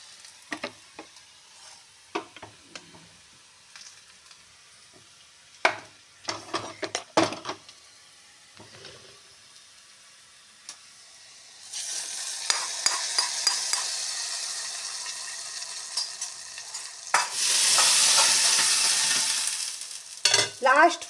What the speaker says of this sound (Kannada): ಈಗ ಒಗ್ಗರಣೆ ಹಾಕೋಣ.